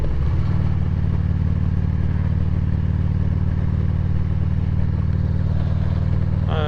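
Steady, loud rumble of a Harley-Davidson Road Glide motorcycle being ridden, its engine holding an even drone throughout with wind and road noise layered on top, and no one talking.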